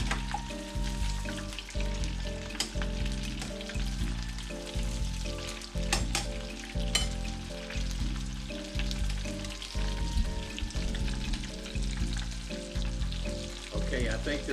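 Butterflied shrimp deep fry in about four inches of oil in a 3-quart pot, a steady bubbling sizzle running under prominent background music, with occasional sharper crackles.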